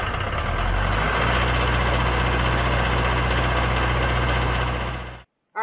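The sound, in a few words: tractor diesel engine starting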